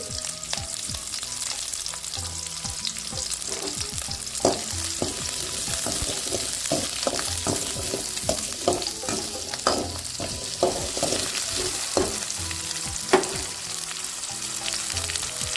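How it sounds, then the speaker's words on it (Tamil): Onions and garlic fry in hot oil for manathakkali keerai chutney, a constant close sizzle broken by repeated light scraping taps of a stirring spoon, with no one talking. "கொஞ்சம் வெங்காயம் வதங்கிடுச்சு"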